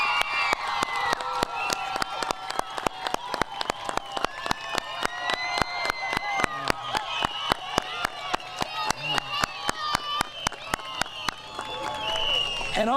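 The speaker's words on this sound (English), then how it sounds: "so we can give you a round of applause here" A school crowd at Poe Classical School applauds standing teachers, with steady rapid clapping throughout, a few cheers and some voices mixed in, fairly close and sustained for over ten seconds.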